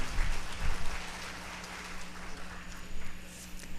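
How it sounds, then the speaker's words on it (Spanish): Applause from the audience at a public-sector executives' panel event, steady and moderately distant crackle of clapping with no speech. "Un aplauso"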